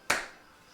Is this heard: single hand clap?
yes